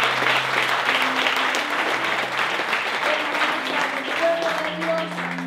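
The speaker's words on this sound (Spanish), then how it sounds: "Denle ese aplauso fuerte al Señor" A church congregation applauds in a steady, dense wash of clapping that fills the whole stretch, with sustained musical tones and faint voices running beneath it.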